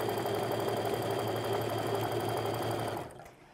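A sewing machine stitches a quilt seam, running with a steady, fast mechanical whir at close range, then slowing and stopping near the end.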